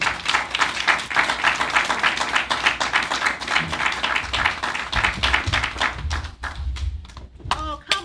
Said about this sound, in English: Oh, come on, continue clapping,